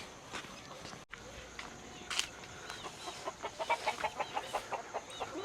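Chickens clucking in a rural yard, a run of short, fairly close clucks growing busier toward the end, with faint rustling in the background.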